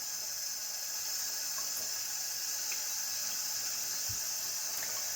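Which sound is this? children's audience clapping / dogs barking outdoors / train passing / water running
water running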